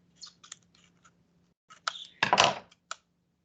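Scissors snip through tape stuck over a paper drawing template during soap carving prep: a few light clicks and rustles, then a short louder crisp cut and a final click, close and isolated.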